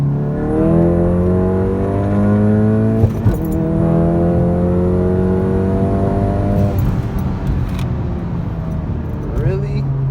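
A tuned 2019 VW GTI accelerates hard in second gear from inside the cabin, its engine note climbing steadily and loudly, with a brief shift-like break, then a throttle lift, and people talking over it.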